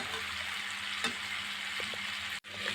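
Broad bean seeds fry in a pan with a steady, close sizzle that holds evenly throughout, broken by a brief clatter and then a short moment of near silence toward the end.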